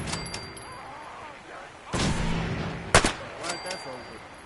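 Gunfire in the video game Fallout 4: a few sharp shots burst out, one heavy blast near the middle and a louder crack shortly after, with quieter clicks and game sounds in between.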